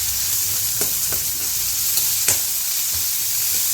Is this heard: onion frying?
yes